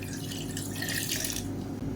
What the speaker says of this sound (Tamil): இந்த தண்ணியை ஊற்றிக்கலாம்